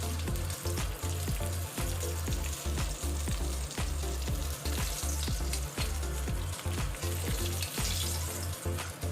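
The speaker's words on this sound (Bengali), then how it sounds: "এদিকে আমার মাছ ভাজা হচ্ছে।" Fish sizzles loudly in hot oil for a Bengali fish head curry, a continuous bright frying crackle with a steady rhythm of low thuds from a utensil, and no talking.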